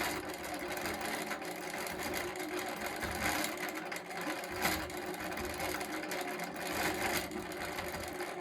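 A sewing machine runs steadily while stitching a quilt backed with tearaway stabilizer, giving a continuous close whirring hum with slight fluctuations and no talk over it.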